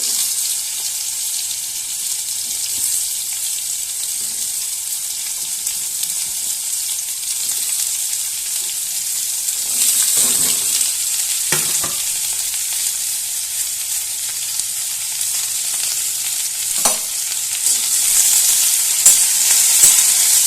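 Ridge gourd frying in hot oil in a pan, a steady loud sizzle running throughout, with occasional stirring scrapes and clinks.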